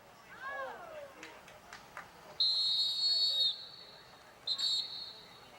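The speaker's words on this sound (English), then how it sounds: "Whistle there by the referee." A referee's whistle at a high school football game, two shrill blasts, the first longer and the second short, heard at moderate distance over crowd noise and a commentator's voice.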